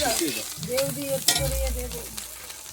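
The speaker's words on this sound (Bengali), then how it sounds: "দেখা যাচ্ছে বিন কড়াই ভাজা হয়ে যাচ্ছে" Green beans fry in ghee in a kadai with a steady, close sizzle and a few stirring scrapes, while brief tonal sounds rise over the frying partway through.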